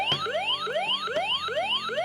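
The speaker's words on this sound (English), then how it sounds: "when you move it, it makes a siren sound." An electronic Nerf Dart Tag flag toy siren wailing in fast repeated upward sweeps, tinny and thin, continuous and fairly quiet.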